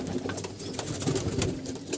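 Pigeons coo and rustle as they are released, soft low calls repeating close by amid brief flutter-like bursts, with no voices.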